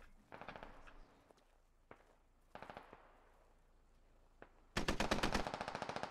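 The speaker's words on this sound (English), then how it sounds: "But most of those shots are coming from that town to the northeast." Gunfire in the military shooter game Squad: bursts of automatic fire and single cracking shots scattered over several seconds, ending in a loud sustained burst of rapid fire, with no talking.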